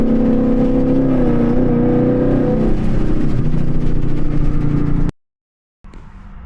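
A 2024 Ford Mustang GT idles loud and steady in a cold-start rumble, the deep engine drone holding for about five seconds before cutting off abruptly, then faint quiet background.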